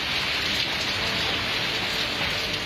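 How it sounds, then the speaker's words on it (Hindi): Heavy rain pours down in Karachi amid stormy winds, a dense, steady hiss that fills the whole stretch without pause and with no voices. "कराची में अचानक बादल आए और तूफानी हवाओं के साथ बरस पड़े।"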